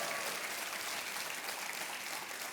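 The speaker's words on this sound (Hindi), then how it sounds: "तालियां बजती रहनी चाहिए देवियों सजनों" The studio audience of the Kaun Banega Crorepati quiz show claps continuously, a soft but even wall of hands heard without talk.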